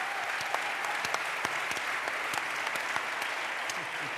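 Conference audience applauding panelists on a summit stage, a dense steady patter of many hands clapping at an even level for the whole stretch.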